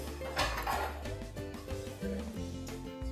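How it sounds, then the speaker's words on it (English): A knife chops onions into small pieces on a kitchen surface, giving quiet, irregular knocks and light clinks spaced roughly half a second apart over a low background hum. "Our last ingredient that we are going to chop is the onions. We are going to cut them in very little pieces."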